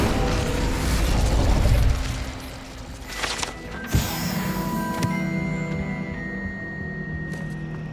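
An Incendio fire spell is cast in the video game Hogwarts Legacy, a sharp burst with a whooshing flare followed by crackling, ringing magical tones that fade over several seconds.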